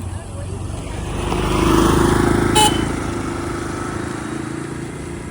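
A motorcycle engine hums steadily as two siblings ride along a straight road, its drone swelling and easing over a few seconds, with a brief horn-like tone partway through and voices talking nearby.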